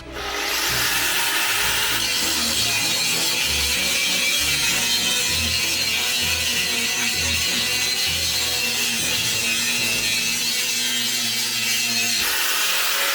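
A Bosch GWS 17 125 angle grinder runs at maximum speed, grinding steadily and loudly close by for about twelve seconds before easing off at the end, with no voices.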